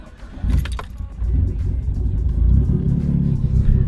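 A Mitsubishi Evo 8 with a fresh two-step tune cranks and fires into a deep, rumbling idle that holds steady and close, after a brief rattle of keys and starter noise at the beginning.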